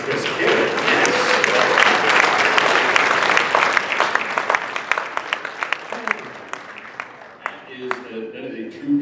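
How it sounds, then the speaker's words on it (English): Audience applause at a charity auction: dense crowd clapping that starts full and loud, then thins to scattered individual claps, with voices talking under it toward the end. "applaud away by all means"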